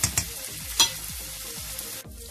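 Bacon and onion fry in a pan for Ukrainian borscht, a close, steady sizzle with a few brief stirring scrapes, before the frying cuts off abruptly near the end.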